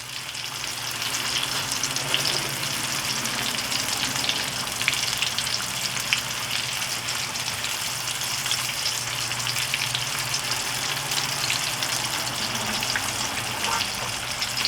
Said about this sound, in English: Fish kind of fries up very quickly